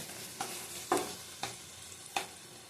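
A shim bean paturi mixture with yogurt is stirred gently in a pan: four evenly spaced light scrapes and taps of a spoon over a quiet background sizzle.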